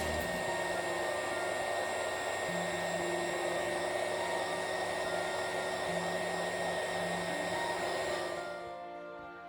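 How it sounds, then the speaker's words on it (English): Heat shrink tubing slipped over a fresh solder joint on an LED strip wire bridge is shrunk with a hot air blower, giving a steady, close, loud whooshing hum that runs unbroken for several seconds before cutting off at the end. "let's shrink wrap some plastic over the new solder joint"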